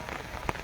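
Heavy downpour in Taunsa Sharif, a dense hiss of rain pattering on surfaces, fairly faint and continuous with a couple of sharper drop hits.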